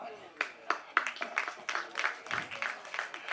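Audience clapping at a Tamil film audio and trailer launch event, a scattered run of claps rising and falling over a few seconds, moderately distant, with no speech over it.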